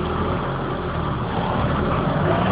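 Volvo 850 AWD engine revving under heavy throttle while its worn visco clutch slips against an applied handbrake and wood block, a steady, loud low engine drone heard close by, with no speech.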